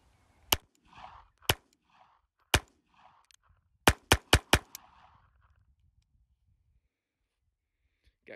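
A Beretta Bobcat 21A .22 pistol fires unsuppressed outdoors, sharp cracks spaced irregularly: single shots, then a quick string of four, each with a short echo, followed by quiet.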